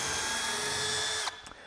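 A Milwaukee power drill whines steadily at high speed while driving a framing screw, then abruptly stops, leaving a couple of faint clicks and quiet.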